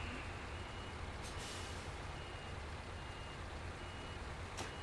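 A heavy fuel-tanker truck in the off-road game Snowrunner backs up, its reversing alarm beeping steadily over a loud, constant diesel engine drone, with no talk.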